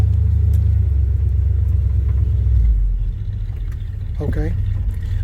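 A 1978 Chevy C10 truck engine idles with a low, steady rumble that shifts and softens partway through as it backs up, with a brief voice near the end.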